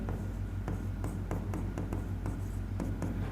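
A pen writes a fraction on a surface, a quick series of short scratchy strokes in an irregular rhythm, close and clear over a low steady background hum.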